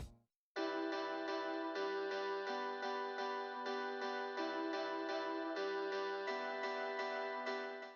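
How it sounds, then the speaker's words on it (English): Clean Strat-style electric guitar sampled through a JC120 amp patch in Omnisphere, strumming a sustained chord progression with steady repeated chord hits, bright and ringing, close and alone with no talking. "I pulled up the Strat JC120 Guitar 2 out of Omnisphere and played a chord progression"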